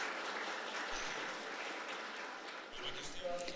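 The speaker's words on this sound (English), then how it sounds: "I want everyone to applaud them." Conference audience applauding invited guests, a steady wash of clapping from a large crowd in a hall, moderately distant and even, with a voice starting up near the end.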